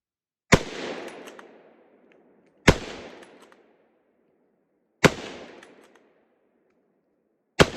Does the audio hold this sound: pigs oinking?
no